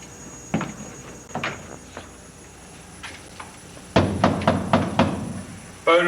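Someone forces a bolted door, making heavy knocks and rattling thuds. A few spaced bangs come first, then a rapid burst of repeated loud pounding near the end, close and sharp with no voices.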